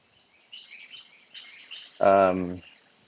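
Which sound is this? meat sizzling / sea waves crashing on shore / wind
wind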